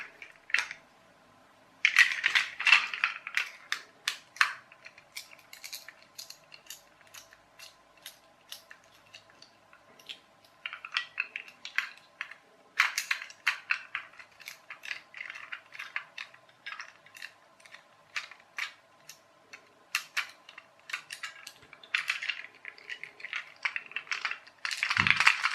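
Small screws come out of a Greendale Rocket toy train, giving light, dry ticks and scratchy clicks in irregular bursts separated by brief quiet spells, close and fairly soft.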